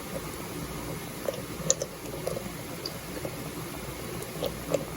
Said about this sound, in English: There's bubbling already.